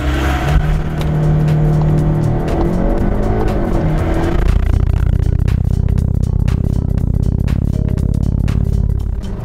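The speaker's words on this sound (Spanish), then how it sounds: "vamos a hacer el Launch Control aquí en 100 metros" A performance car doing a launch control start at 4000 rpm on a 100-metre stretch, engine held loud and steady at high revs, then a sudden deeper surge as it pulls away hard, with sharp crackles, close and continuous.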